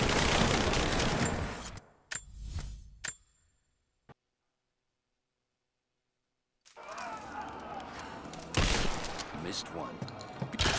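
Gunfire in Rise of the Tomb Raider, a loud burst of shots and impacts at the start, then a sudden silent stretch before the firing and combat noise resume, with game voices shouting among the shots.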